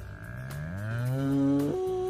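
A real dairy cow gives a single drawn-out moo that swells and bends upward in pitch before breaking off. It sounds close and clear, with no other sound around it.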